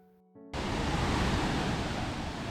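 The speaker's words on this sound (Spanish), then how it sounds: "río Dow se llega a esta catarata." Waterfall on the River Doe at Ingleton, reached along a woodland trail through oaks: a sudden, steady, loud broadband roar of falling water that fills the clip.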